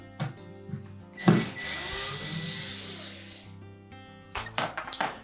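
A power screwdriver whirs for about two seconds while backing out a Torx screw from the motor mounting bracket of a Frigidaire dishwasher, set between close clicks and knocks of handling parts.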